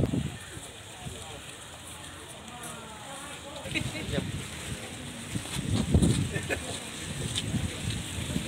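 Outdoor wind buffets the microphone during a city official's visit to a school in Palembang, rumbling loudly and unevenly with gusts swelling toward the end, while people talk nearby.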